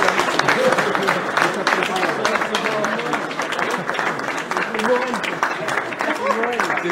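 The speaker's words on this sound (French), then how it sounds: "On les applaudit aussi très fort, les entraîneurs du réguliers." An audience at a French predator-fishing championship podium applauds the new champions and their coaches with sustained dense clapping, and a voice talks over it through much of the clip.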